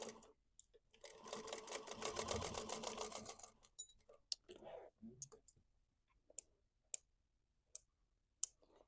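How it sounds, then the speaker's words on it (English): A sewing machine stitches a wristlet in a fast, steady run of needle clatter for a few seconds near the start. Isolated mechanical clicks and taps follow, fairly close and quiet. "we're going to sew over here"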